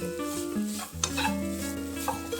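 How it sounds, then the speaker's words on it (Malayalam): Grated coconut fries lightly in a pan and is stirred, a steady soft sizzle under scraping strokes and a brief clink of utensil on the pan; no talk. "തേങ്ങ നന്നായിട്ടൊന്ന് ഫ്രൈ ചെയ്തെടുക്കാം"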